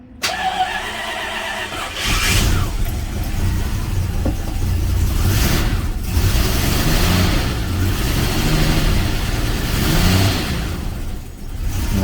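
A 1989 Jaguar Sovereign V12 cranks and catches, then idles roughly and unevenly as it misfires on some cylinders, with a loud, steady, lumpy engine note close by and a few surges in revs.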